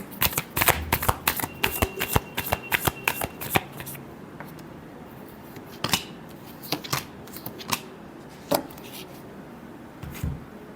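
Tarot cards being shuffled by hand in repeated riffling bursts, loud and close. The bursts come quickly at first, then turn sparser and more intermittent, with no speech.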